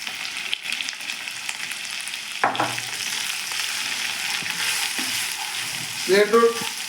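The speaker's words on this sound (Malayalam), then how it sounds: "ഇനി ഇതിലേക്ക് അച്ചരപ്പൊടി ഇട്ട് ഇളക്കുക." Beetroot pickle cooks in a pan with pickle spice powder while a spoon stirs it through a steady sizzle, with a sharp scrape near the middle and a brief clatter at the end.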